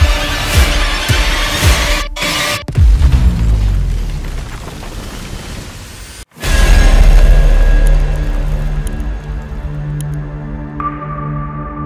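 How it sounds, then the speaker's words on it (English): A cinematic meteor-falling and asteroid-impact explosion effect, with loud deep booms and roaring rumbles, a sudden cut, then a heavy blast that slowly fades into a ringing tail. "today I will show you how to make the meteor falling effect"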